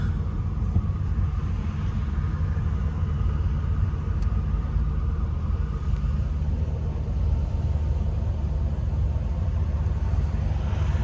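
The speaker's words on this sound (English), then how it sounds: "Just gonna keep driving it nice and easy." A Shelby GT500 with a 5.4-litre 4-valve engine and a newly fitted McLeod RXT clutch is driven gently. Heard from inside, it gives a continuous, even, low engine and road rumble with no speech.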